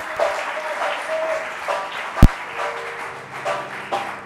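A church congregation applauds in a steady wash of clapping with a sharp loud knock partway through, while a voice speaks over it.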